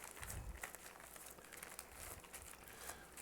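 Puff pastry peeled back and folded over a sausage, giving a close, steady crinkling and soft crackling rustle with a few low thumps, no talk.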